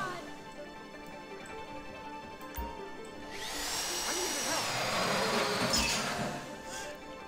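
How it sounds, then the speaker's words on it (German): A drill whines loudly during a bank heist in GTA 5 Online, starting abruptly and grinding steadily for several seconds, with a brief thud near the start and someone speaking over it. "Der Bohrer ist halt..."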